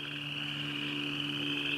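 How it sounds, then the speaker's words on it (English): Frogs croak in a dense, continuous chorus near a mud puddle in the woods, a steady trilling drone that fills the short stretch with no talking. "if you can hear the frogs"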